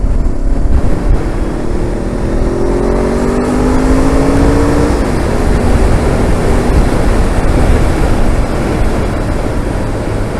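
A motorcycle fitted with race pipes roars loudly up close while riding on a fell road, its exhaust note rising as it accelerates through the gears over strong wind rush.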